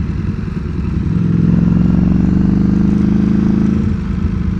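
A Ducati Streetfighter V4 motorcycle rides a curvy road, its engine a loud, steady, rumbling drone that swells slightly as it pulls, heard close with no talking.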